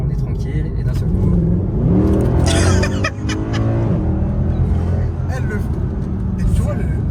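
A Mercedes C63 AMG W204 V8 revs and pulls hard, a loud, rising engine note heard from inside the car, with voices and laughter running over it.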